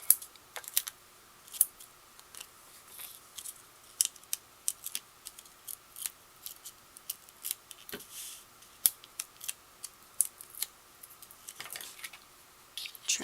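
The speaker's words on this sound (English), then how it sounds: "Trim that ribbon down." Scissors snipping through ribbon during a paper-card ornament craft, a series of quiet crisp clicks and cuts scattered irregularly over a near-silent background.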